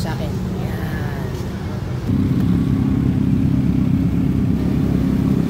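Big motorcycles rumble past on a road near a tunnel, a steady engine drone that swells louder midway, with a rider talking over the noise.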